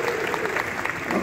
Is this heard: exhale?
no